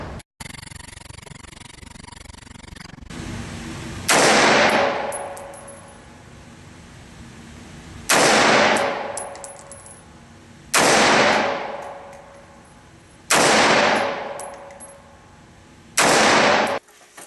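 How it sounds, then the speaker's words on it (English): Gunshots from reloaded ammunition fired at an outdoor gun range: five loud, sharp reports spaced a few seconds apart, each with a short echoing tail over faint background noise. "I wanted to record my reloaded ammunition being fired on a range"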